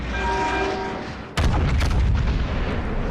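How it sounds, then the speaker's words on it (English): Conqueror battleship firing a full main-gun salvo in World of Warships Legends: after a quieter stretch with a faint tonal hum, one sudden heavy boom erupts, followed by a rolling, rumbling tail of reverberant blasts. "we do get a full salvo at the Grossiker first, and got 3 hits"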